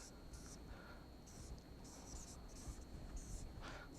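A pen scratches out a diagram in short, intermittent strokes, faint and close, over a low background hiss.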